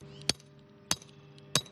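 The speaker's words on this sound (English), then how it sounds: "and hammering pins into the ground." A hammer strikes pins holding flags into the ground outdoors, three sharp, evenly spaced blows about six tenths of a second apart, close and clear over a low background hum.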